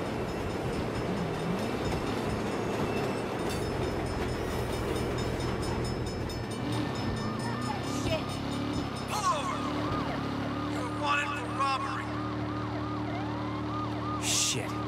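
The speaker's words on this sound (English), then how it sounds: "Bad time for a train." A train rumbles past in Saints Row while police sirens wail and sweep over it, a loud, steady mix of rail noise and rising-falling sirens.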